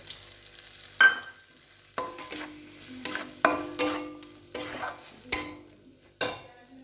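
Cashew and poppy seed paste frying in an onion-tomato masala with ginger paste and turmeric-chili powder for a prawn malai curry, a soft sizzle broken by distinct, regular clanks and scrapes of a spatula in the pan.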